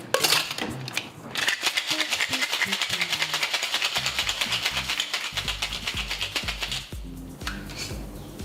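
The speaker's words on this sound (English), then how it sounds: "Then we're gonna shake that all up." Vodka and Lillet cocktail shaken hard in a shaker, a steady rapid rattle of ice against metal running for several seconds, close and loud, with a brief pause midway.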